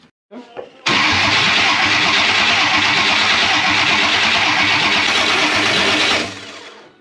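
An LS2 6 litre V8 engine swapped into a 2014 two-wheel-drive Toyota Hilux cranks over on the starter: a loud, steady rhythmic chugging that lasts about five seconds after a short stutter, then winds down without firing.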